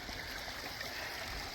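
A stream flows beside a hiking trail at a campsite, giving a steady, soft rushing wash of water with no voices.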